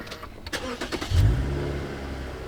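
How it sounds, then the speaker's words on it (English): A Lexus IS350 engine cranks and catches, settling into a low steady idle after a few sharp clicks and rustles. "Let me start the car for you guys."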